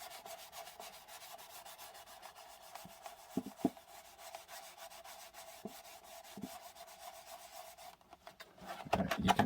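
Flitz polish is rubbed by hand onto a thin plastic blow mold, making quiet, soft scrubbing strokes with a few sharper rubs and a louder burst of handling near the end.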